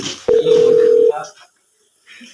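A telephone line gives a single steady tone lasting under a second, clear and close, then cuts off into silence, with a voice speaking around it.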